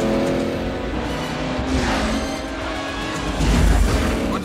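A car accelerates hard in a tense street chase. The engine roar is loud and broadband, with a surge and a crash-like burst near the end, and no one talks.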